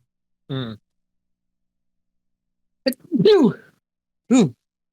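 A single sharp sneeze is followed by short spoken replies, then a final vocal burst, all close and loud against silence.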